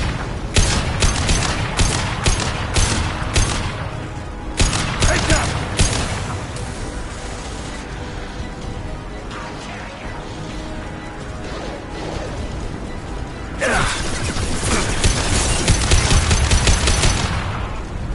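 Rapid automatic gunfire fills a Mass Effect 2 firefight: dense, loud bursts of shots with short pauses between volleys, continuing throughout, with occasional booms and faint voices under the shooting.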